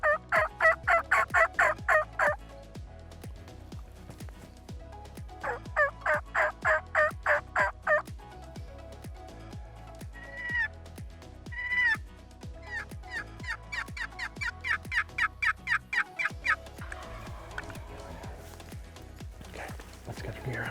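Wild turkey gobbling on a rural property: repeated rapid gobbles in bursts, fairly loud and carrying, with a few softer calls and brief talk between them.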